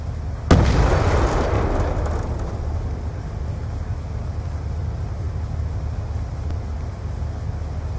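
A grenade goes off in a hardcore search-and-destroy video game match, a single sharp, loud blast followed by a long rumbling decay and steady background noise.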